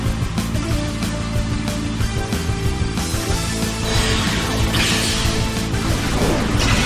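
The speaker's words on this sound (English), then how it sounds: "A smashing blow!" A smashing blow impact in the Pokémon Battle Revolution video game, a loud crash and thwack with a whooshing burst over continuous in-game music and ambience.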